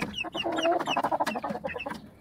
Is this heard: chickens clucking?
yes